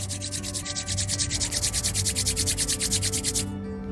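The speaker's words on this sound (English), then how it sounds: "Rub your both palms" Two palms rubbed briskly together, giving a close, steady, rhythmic swishing friction of about twenty quick strokes, which stops abruptly near the end.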